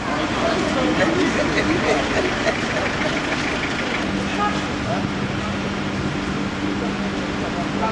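Road traffic with a passing car on a road in Côte d'Ivoire, a steady engine and roadway rumble that holds for several seconds, with a low engine drone entering partway through and voices talking over it.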